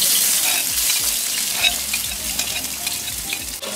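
Chopped onions stirred in hot oil in a pan for a Kahramanmaraş-style stir-fry, a steady close sizzle with soft scraping strokes of the spoon throughout.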